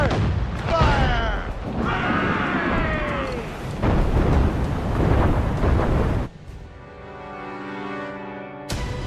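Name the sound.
ship cannons firing in the video game Assassin's Creed Rogue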